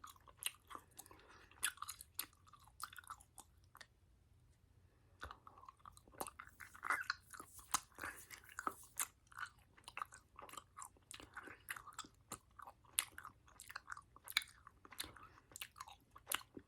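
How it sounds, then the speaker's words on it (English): Gum chewed close to the mouth, producing a steady stream of wet, sticky smacks and clicks in an irregular rhythm, intimate and near, with no talking. "I'm just going to kind of be chewing gum, but I know that this gum does make very good sounds"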